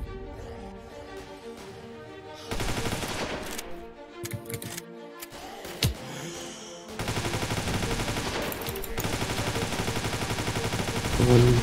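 Gunfire in the R2DA video game comes as rapid, loud bursts of automatic shots with short pauses between volleys, close and dense over a constant game background.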